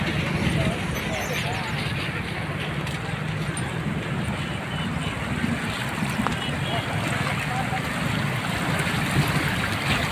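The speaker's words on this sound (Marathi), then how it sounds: "काय प्रेशर आहे पाण्याला इकडे सगळं" Floodwater from cloudburst rain rushes hard, a loud continuous roaring wash close by, with people talking over it.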